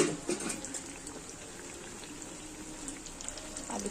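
Bengali besan-battered potato chops frying in hot oil, a steady bubbling, crackling sizzle with small pops, moderately close and fairly quiet throughout, with no talking.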